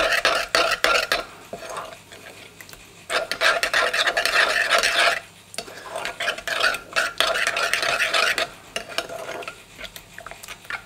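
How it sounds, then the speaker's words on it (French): A spoon stirs a liquid sauce, making close scraping and swishing strokes in a steady run that pauses briefly midway and then resumes. No one speaks. "Je vais prendre une autre cuillère. Alors on mélange."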